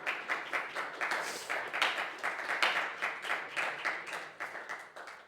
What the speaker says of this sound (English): That was a very slow clap.